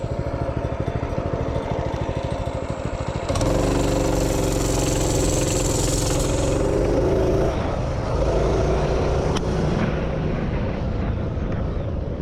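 A 212 minibike engine, accelerating from a dead stop, chugs at idle and then roars louder as it revs up before the governor kicks in and the pitch levels off into a steady, close drone.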